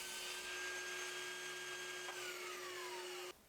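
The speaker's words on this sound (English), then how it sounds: "So now I can get that cut to the width of this board on the table saw." Table saw spinning with a steady high whine while cutting a small scrap of 3x2 wood, the motor note dropping and cutting off abruptly near the end; fairly close, no talking.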